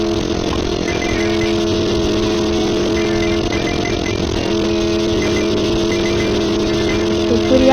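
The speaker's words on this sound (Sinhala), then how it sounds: "බයික් එක නම් පට්ට වේගෙන් යන්නේ" A motorcycle rides fast, its engine giving a loud, steady, close-up drone with a constant buzzing tone, heard from on board and unbroken throughout.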